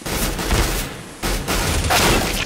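Negev machine gun fire in CS:GO, a dense sustained burst of rapid game gunfire that breaks off briefly around the middle and then resumes, loud and continuous.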